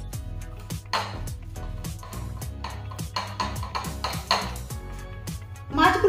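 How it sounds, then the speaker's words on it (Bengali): Fish pieces being mixed with salt and turmeric in a dish, heard as irregular light clinks and taps of utensil on a metal bowl over steady background music. "এবারে এই মাছগুলোকে নুন আর হলুদ দিয়ে মাখিয়ে নেব।"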